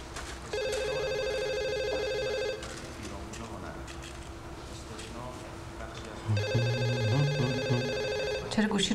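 A telephone rings unanswered in a home during a tense domestic drama, sounding in two separate bursts of repeated electronic trills with voices and background sound beneath them.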